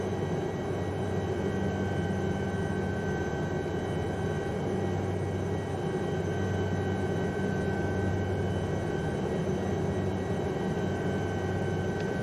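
Steady, loud whine and rotor drone of an Aérospatiale Lama SA315 helicopter hovering and manoeuvring along a ridge in strong winds, constant throughout with heavy wind rumble.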